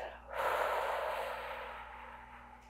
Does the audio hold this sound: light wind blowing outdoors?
no